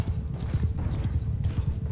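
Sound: horse galloping in video game Mount & Blade II Bannerlord

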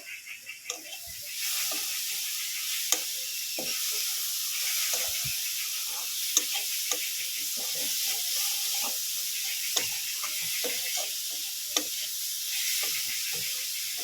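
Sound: stirring coconut filling in a pan

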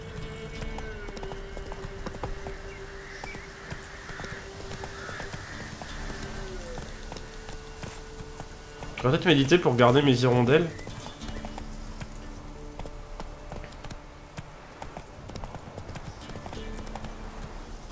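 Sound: horses' hooves and neighing in The Witcher 3 video game

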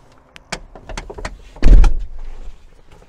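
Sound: car doors being closed

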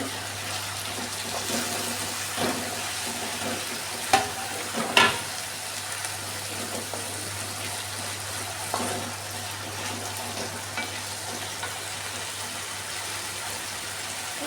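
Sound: stirring potatoes in a pot with a ladle

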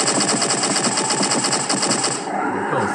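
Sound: gunfire from a gun in a video game

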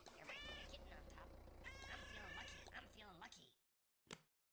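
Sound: kitten meowing in Exploding Kittens video game

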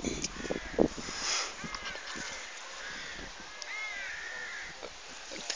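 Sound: crows cawing

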